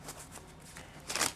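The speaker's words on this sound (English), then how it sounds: "you give it to them, they shuffle the crap out of it" A deck of playing cards shuffled during a card trick, a quick soft riffle that ends in a brighter, louder burst, close up with no talking.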